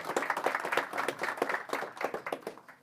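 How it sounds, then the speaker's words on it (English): A small audience at an investor day claps in a fairly sparse, uneven pattern where individual hand claps stand out, moderately close and continuing throughout. "An applause before the questions"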